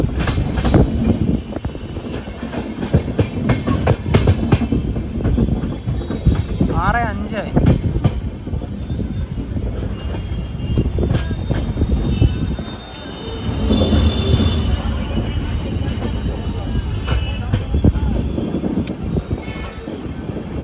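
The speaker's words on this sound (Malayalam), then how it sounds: "ഉത്തർപ്രദേശിലെ മഥുര സ്റ്റേഷനിലേക്ക് ഇതാ ട്രെയിൻ എത്തിക്കൊണ്ടിരിക്കുകയാണ്" A passenger train, the Jhelum Express sleeper service, rolls into Mathura Junction station, heard from on board as a steady rumble with wheel clatter and occasional squeals, while someone talks over it and other voices drift by.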